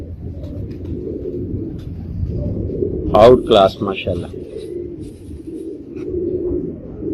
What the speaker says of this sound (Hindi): देखें ये कबूतर है जी माशाल्लाह